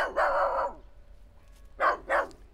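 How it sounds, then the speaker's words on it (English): Sampled dog barks ring out clearly, one long bark followed after a pause by two quick barks in a row, close and alone with no talk. "And here, from the sample bay, a dog."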